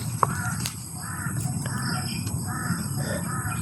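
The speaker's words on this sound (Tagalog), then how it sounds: "yung uwak nakasunod" A crow caws repeatedly in a series of harsh, evenly spaced calls over a steady low background hum. No one talks.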